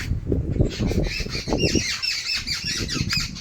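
Many birds squawk and chirp together at a feeding spot in a village, a dense, busy chorus of overlapping calls with rapid repeated shrieks, close and continuous throughout.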